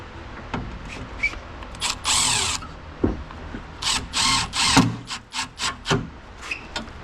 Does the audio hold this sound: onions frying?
no